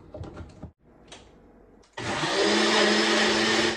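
A blender whirring loudly as it purées a zucchini tortilla mixture: it starts abruptly after a couple of seconds of faint kitchen clatter and runs steadily with a strong motor whine to the end.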